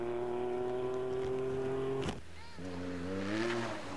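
A Mitsubishi Pajero Full rally car drives at the Rally das Serras, its engine giving a steady droning hum that dips briefly and then rises again, heard from a moderate distance.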